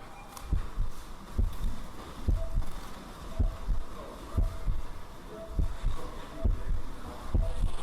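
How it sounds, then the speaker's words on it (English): Steady heartbeat thumps in a played music track, deep paired pulses repeating about once a second over a low hum and a faint noisy bed, with no talking. "The heartbeat."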